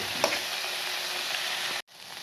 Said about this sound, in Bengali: সাইডে পোড়া পোড়া হচ্ছে সবজিগুলো আর মাঝখানে পনিরটা তেলের মধ্যে ভাজা হচ্ছে